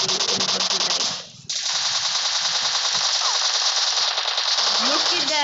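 Rapid automatic gunfire in the shooter game PUBG Lite, a dense continuous rattle of shots that pauses briefly and resumes, loud and close throughout.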